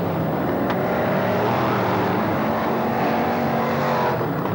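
BriSCA F1 stock cars race past at the Belle Vue oval, a loud, continuous engine roar that swells and fades as the pack sweeps by, with no voice over it.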